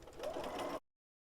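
Sewing machine running a short, steady burst of stitching on pieced quilt fabric squares, close and fairly quiet, stopping abruptly into silence.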